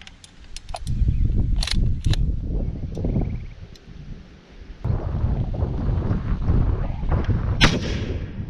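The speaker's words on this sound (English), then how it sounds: "Now let's shoot that helmet." Rifle shots from a Remington 700 PCR in 6.5 Creedmoor, fired outdoors at a helmet target, ring out as several sharp loud cracks with booming echoes rolling away across open ground, while wind rumbles steadily into the microphone.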